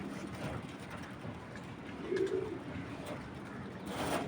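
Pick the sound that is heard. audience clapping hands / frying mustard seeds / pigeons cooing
pigeons cooing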